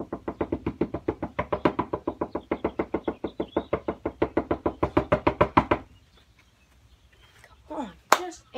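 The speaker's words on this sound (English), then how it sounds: "Answer the door." Someone knocks on a door in a long, steady series of about thirty evenly spaced sharp raps, close and loud, then stops and leaves quieter faint sounds.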